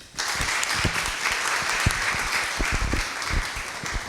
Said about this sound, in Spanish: Recibamos a nuestro segundo ponente con un fuerte aplauso